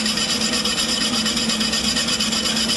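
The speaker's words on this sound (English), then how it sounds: "you clean it up with a small stainless steel brush" Small stainless steel brush scrubbing metal before welding, giving a fast, steady rasping scratch that is loud, close and continuous, with no voices.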